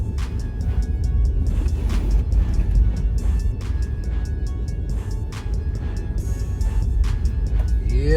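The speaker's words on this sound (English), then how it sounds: "for the most part, it drives fairly well inside the snow" A 2020 Ford F-150 Lariat 4WD pickup driving through snow, heard from inside the cab as a steady, loud low rumble of engine and road noise with faint ticks and crunches over it, and no talking.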